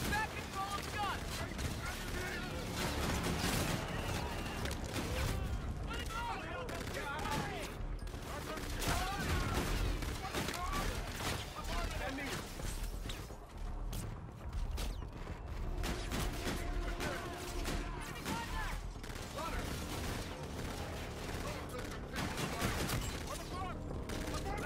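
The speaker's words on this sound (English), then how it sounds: "Using our Aedis guns to shoot down the fleet." Heavy, continuous gunfire from Aedis guns fired at an enemy fleet in the Call of Duty: Infinite Warfare campaign, a dense loud barrage of booming shots and rattling bursts that runs unbroken and never lets up.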